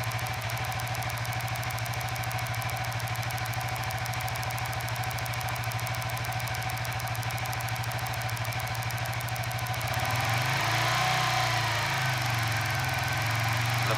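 A Suzuki FU 150 FI motorcycle engine idles steadily with a fast, even putter, close and loud throughout, shifting in tone near the end as the revs change slightly.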